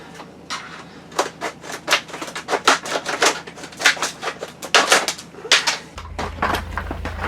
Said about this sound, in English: let's get some scissors.